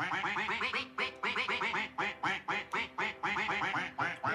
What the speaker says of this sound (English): the music of the duck.